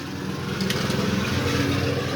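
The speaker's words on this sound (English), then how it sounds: "He's mowing the lawn." A lawn mower cuts grass outside on a drizzly day, making a steady, droning engine rumble at a moderate distance that runs throughout without a break.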